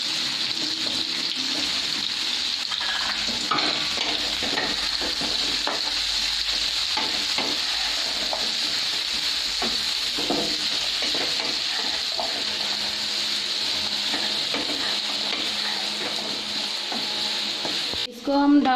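Potatoes with turmeric powder fry and get stirred in a pan, giving a loud continuous hiss and sizzle with frequent scraping and clattering from the stirring, steady almost throughout before a brief break at the end.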